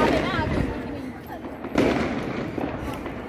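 A single loud Diwali firecracker bang bursts out under steady outdoor chatter, with people talking throughout.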